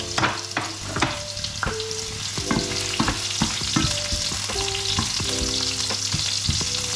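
Food fries in a pan, a steady close sizzle broken by repeated clinks and scrapes of stirring, with no voices.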